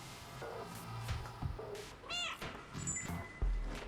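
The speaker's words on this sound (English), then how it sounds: "I think I might have to do a cheeky meow" A cat meows in the video game Stray, a short rising-and-falling call at mid loudness amid game ambience, with a brief high electronic tone and a low thud nearby.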